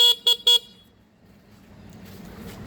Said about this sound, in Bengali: হর্ন